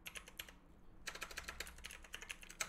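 Fingers typing a command on a computer keyboard, a quick run of light clicking keystrokes, a brief pause, then a denser burst of rapid key taps, close and fairly quiet with no talking.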